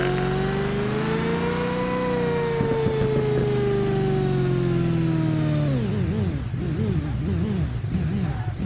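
Engine at full throttle in a BeamNG driving game, a loud rising harmonic whine held steady for several seconds, then dropping and wavering as gears shift and the revs bounce near the end.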